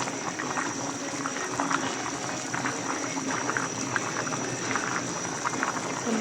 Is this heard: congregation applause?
no